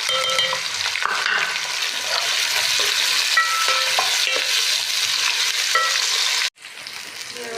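Onions sizzle and crackle steadily in hot oil with browned cumin, a loud continuous fry with occasional stirring, cutting out briefly near the end.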